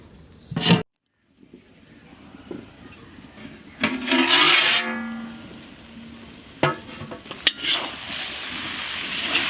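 Fenugreek leaves and potatoes fry in a pan for aloo methi sabzi, with bursts of sizzling and spoon scraping that swell and fade, close by, broken by a short silence near the start.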